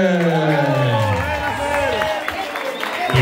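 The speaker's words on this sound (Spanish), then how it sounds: "Y un fuerte aplauso para Fernando" A crowd at an outdoor race award ceremony applauds and cheers the second-place finisher, loud clapping and voices swelling together, with a strong wavering tone and babble over the clapping.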